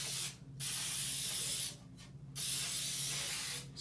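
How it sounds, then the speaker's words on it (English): Canola and flour cooking spray greasing a loaf pan for bread, three close, steady hissing bursts of about a second each, separated by short silent gaps, with no talk over it. "We've recently been using the spray with canola and flour."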